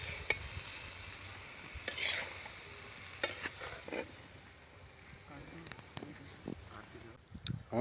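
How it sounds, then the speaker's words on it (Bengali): Broccoli sautés in a pan with a soft sizzle and repeated stirring and scraping sounds, quiet and close, with a brief louder clatter near the end. "আমাদের এখন কষানো হচ্ছে।"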